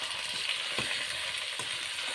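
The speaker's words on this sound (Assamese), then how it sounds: "হাঁহৰ মাংস যেতিয়া খুব লৰাই লৰাই ভাজি থাকিব লাগে।" Duck meat frying with ginger and garlic in a pan for an Assamese duck and potato curry, a steady close sizzle broken by a few scraping stirs of the spoon, with no talk.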